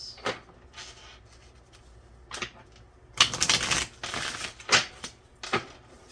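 Tarot cards being shuffled by hand, a run of crisp riffling and flicking bursts, one long dense burst in the middle followed by several sharp snaps, close and moderately loud with no talking.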